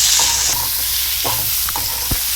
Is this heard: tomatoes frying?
yes